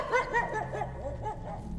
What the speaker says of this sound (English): What is this dog barking sound?